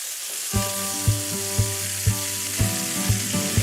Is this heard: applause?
no